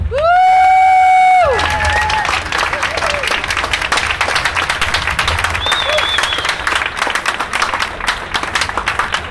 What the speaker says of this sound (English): let's give a great round of applause to them